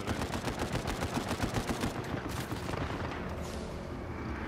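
Enemy gunfire in the video game Uncharted 4: loud, rapid bursts of automatic shots crackle almost without pause, thinning slightly toward the end, with no talking.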